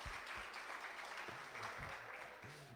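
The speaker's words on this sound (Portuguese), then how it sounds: "Vamos aplaudir." A church congregation claps at a preacher's call, steady applause with a few deeper voiced sounds underneath.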